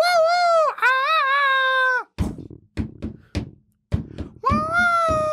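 A voice imitates the wailing two-note theme from the opening of The Good, the Bad and the Ugly, loud sustained whooping calls broken by a run of sharp percussive knocks, then the wail returns.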